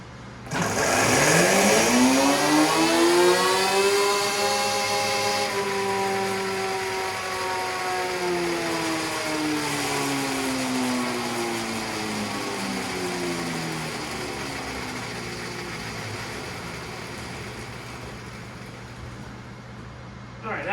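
Apollo RFN electric dirt bike on a dyno, rear wheel spinning up with a rising then slowly falling whine and a steady mechanical drone, loud and sustained for about twenty seconds with no talk.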